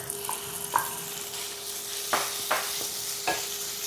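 Minced pork hits a pan of garlic sautéing over medium heat, giving a steady sizzle and fry. A few stirring scrapes and clinks sound close by, with no talking.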